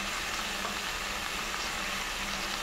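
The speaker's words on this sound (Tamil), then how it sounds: "இது கூடையே புதினாவும் கொத்தமல்லியும் போட்டு வதக்கிடலாம்" Mushroom gravy masala with mint and coriander sautés in a pan, giving a dense, even, close-up sizzle that runs unbroken through the short stretch without any speech.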